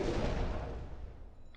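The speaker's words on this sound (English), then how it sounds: "That first torpedo hit" Torpedo striking an enemy ship in the UBOAT submarine game: a loud, broad rumbling explosion that is already underway and slowly decays over the moment, with no talk.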